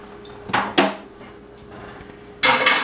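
Shepherd's pie filling is mixed in a pot, heard as a few sharp utensil clanks against metal with quiet pauses between, then a denser burst of scraping and knocking near the end.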